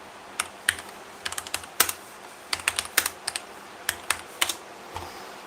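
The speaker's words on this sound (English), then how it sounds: "It's a keyboard." Someone types on a computer keyboard, giving crisp, close clicks in irregular bursts. Quick clusters of keystrokes are split by short pauses, with an occasional heavier key press, over a quiet room and no speech.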